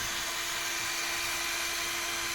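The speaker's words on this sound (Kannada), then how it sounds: "ಅದಕ್ಕೆ ಡ್ರಿಲ್ ಹಾಕಿ ಸ್ಕ್ರೂ ಹಾಕಿದ್ರೆ ಸ್ವಲ್ಪ ಟೈಟಾಗಿ ಕೂತ್ಬಿಡುತ್ತೆ" A power drill bores holes for screws with a continuous, steady high whine and grinding buzz that holds level throughout, close and loud with no talking.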